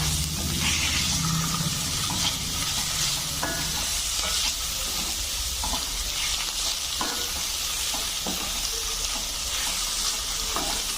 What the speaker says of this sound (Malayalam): നമുക്ക് ഈ തക്കാളി ചേർത്ത് കൊടുക്കാം ഒപ്പം വെളുത്തുള്ളി നീക്കി ചതച്ചതും കൂടെ ചേർത്ത് കൊടുത്തിട്ട് നന്നായിട്ട് ഇളക്കാം